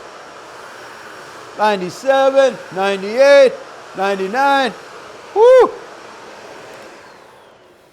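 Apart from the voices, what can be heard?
Shark vacuum cleaner running over carpet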